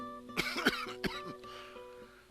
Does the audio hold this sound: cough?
yes